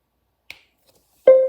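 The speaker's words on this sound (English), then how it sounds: "You should hear a connection sound." A phone plugged into a computer by cable for flashing CalyxOS on a Pixel 6 sets off a short chime: a faint click, then a bright, tonal connection beep that sustains briefly and stands alone, with no talk.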